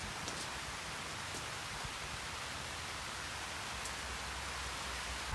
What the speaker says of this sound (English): The rain's getting pretty bad